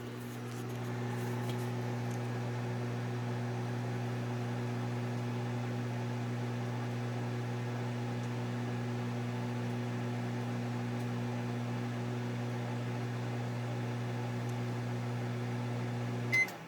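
Panasonic microwave oven running, a steady low hum with a constant electrical drone that holds for the whole stretch, quiet and unbroken, with a faint click at the very end.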